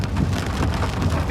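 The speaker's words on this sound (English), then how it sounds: "Just started pouring down rain." Heavy rain pouring down on a farm field during drainage work, a dense, steady roar of drops hitting the ground nearby with no voices.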